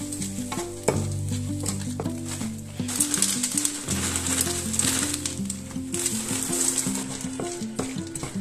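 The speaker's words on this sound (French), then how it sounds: "Dans une poêle, on met des petits lardons" Small bacon lardons fry in a pan with peas, giving a steady crackling sizzle alongside repeated clinks and scrapes of a utensil stirring, with music playing underneath.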